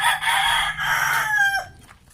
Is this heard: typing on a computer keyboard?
no